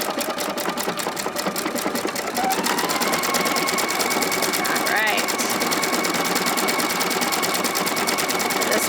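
A PFAFF Creative Icon sewing machine stitching, with a loud, steady, rapid mechanical whir and needle chatter that runs continuously. Its tone shifts slightly partway through.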